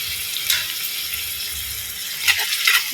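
Carrot and beans rice with chili powder frying in a pan, a soft continuous sizzle broken by a few sharper scrapes and clinks as it is tossed, close and moderately quiet.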